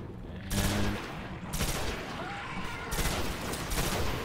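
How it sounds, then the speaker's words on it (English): Gunfire rattles in bursts in the Destiny video game, a dense crackling fusillade with repeated volleys heard at a distance over steady ambient noise. "Hear gunshots in the distance."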